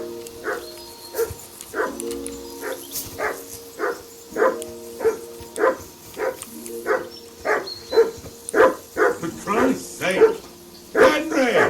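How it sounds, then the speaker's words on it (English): A dog in the medieval world of Kingdom Come: Deliverance II barks repeatedly in a steady series of sharp, fairly close barks over about twelve seconds, with faint game ambience and voices underneath. "Tem um cachorro aqui, né?"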